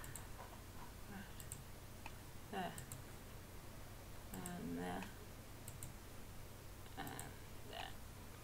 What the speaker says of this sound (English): stop clicking the wrong button